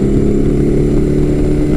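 Motorcycle engine droning loud and steady at close range for under two seconds, a big-bore 1100 ridden on twisty roads.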